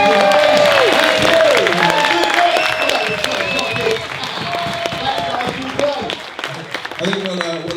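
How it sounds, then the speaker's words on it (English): An audience at a Suffolk People First gathering gives a round of applause, loud clapping at first that fades as voices talking and calling out take over near the mic. "We'll give a big round of applause"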